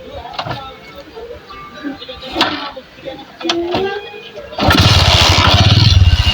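A Suzuki M.Pro motorcycle with a carburetor fault sputters and misfires unevenly, then settles into a loud, rough, continuous running engine for the last couple of seconds, with someone talking over the first part.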